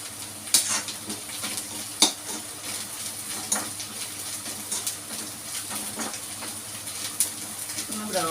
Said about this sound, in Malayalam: ഇഞ്ചി, പച്ചമുളക്, വെളുത്തുള്ളി, കറിവേപ്പില, ചുവന്നുള്ളി എല്ലാം കൂടി ഇട്ട് വഴറ്റാം